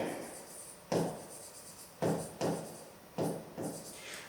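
A pen writes and circles divisor numbers during a fifth-grade math exercise, heard as four short, scratchy strokes spaced about a second apart, faint and close with no talking.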